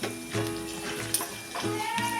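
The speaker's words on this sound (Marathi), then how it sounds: "मग आता डाळीचा कलर बदलेपर्यंत ही परतून घ्यायची आहे" Dal frying in hot oil for a tempering poured over South Indian idli chutney, a steady close sizzle with small crackles and stirring noises, no talking.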